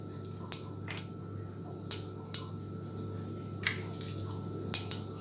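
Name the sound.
mustard seeds, urad dal and fenugreek spluttering in oil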